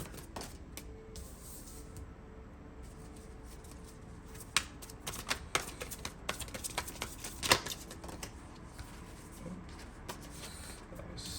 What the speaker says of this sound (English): I'll go ahead and keep shuffling.